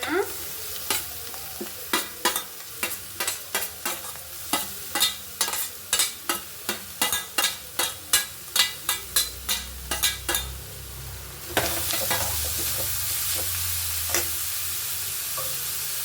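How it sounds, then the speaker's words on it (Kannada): A spoon scrapes and stirs carrots just added to fried onions in a pan for an egg curry, about thirty steady strokes at half-second intervals over continuous sizzling, then the stirring stops and the frying hiss carries on alone. "ಈರುಳ್ಳಿ ಫ್ರೈ ಆಗಿದೆ ಕ್ಯಾರೆಟ್ ಹಾಕೋಣ"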